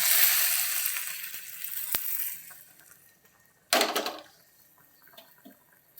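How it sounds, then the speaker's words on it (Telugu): Hot tempering for Andhra-style moong dal rasam hits the liquid with a sharp burst of sizzling midway, after a fading hiss of frying oil, then settles into a quiet bubbling. "పోపు తీసుకొని పప్పు చారులో వేసేస్తాం"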